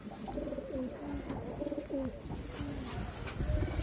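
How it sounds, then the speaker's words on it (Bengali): Domestic pigeons cooing outside a home loft, soft repeated low throaty coos in overlapping phrases at close range, with faint background noise and no talk. "কবুতর ছাড় আছে বাইরে"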